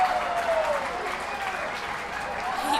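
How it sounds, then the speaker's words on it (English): Steady crowd applause and cheering swell at a minor-league baseball game between the Reading Fightin Phils and Harrisburg Senators after a leaping catch near the left-field foul line, dense and continuous throughout. "There's applause."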